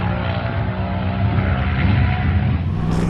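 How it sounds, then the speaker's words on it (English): A Yamaha MT-10SP motorcycle engine roars steadily at a drag strip, a loud continuous rumble with rising and falling throttle, close and dense throughout. "It's been the MT-10SP at the drag strip"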